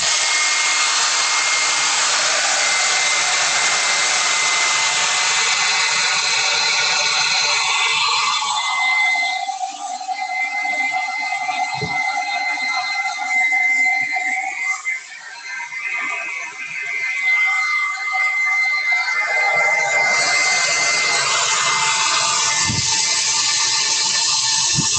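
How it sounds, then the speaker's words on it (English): A hair dryer blows steadily while drying paint on a carved wooden pike. The airflow roars loud and close, softens in the middle as it is moved away, then returns at full strength near the end. "Just a little hair dryer will fix all this paint so I can't smear it when I'm putting new paint on top of it"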